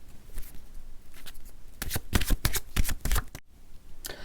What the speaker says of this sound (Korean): 두 분의 연애운에 대한 추가 카드를 조금 더 뽑아보겠습니다